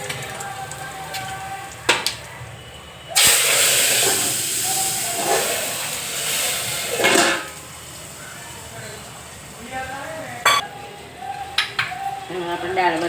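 Dal tempering with asafoetida and mustard seeds hisses and sizzles loudly in hot oil in a home kitchen, a sharp burst partway through settling into steady crackle, with a voice speaking intermittently over it.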